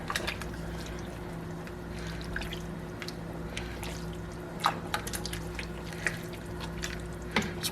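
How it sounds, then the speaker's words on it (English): Milk pours into a soup pot already holding heavy cream, a steady near liquid trickle with scattered drips and small splashes, no voices over it. "And then I'm going to add in some milk."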